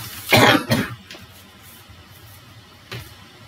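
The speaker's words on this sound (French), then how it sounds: "vous m'entendez tousser" A person coughs twice in quick succession, near and loud, then a quieter third cough follows after a pause of about two seconds, in an otherwise quiet room.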